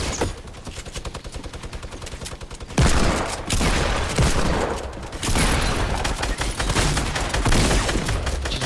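Dense automatic gunfire and explosive blasts in a Fortnite squad match, rapid bursts that grow louder and more constant partway through, filling the clip with no speech.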